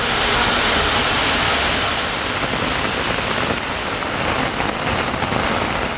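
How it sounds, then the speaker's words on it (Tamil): Heavy rain pours down steadily and loudly during a downpour over Tiruppur, a dense continuous roar with no voices. "1 மணி நேரத்திற்கும் மேலாக கனமழை கொட்டி தீர்த்தது"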